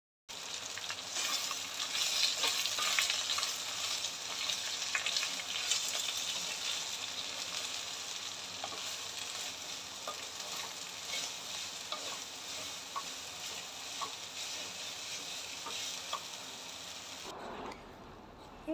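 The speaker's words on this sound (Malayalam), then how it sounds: "പെട്ടെന്ന് ഹൈ ഫ്ലെയിമിൽ അങ്ങ് വഴട്ടിയെടുക്കട്ടെ" Onions sautéing in a pan over a high flame give a continuous, dense sizzle and crackle with faint stirring scrapes, close and steady for a long stretch before cutting off abruptly near the end; nobody speaks.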